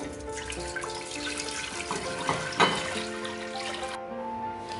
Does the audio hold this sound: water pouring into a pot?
yes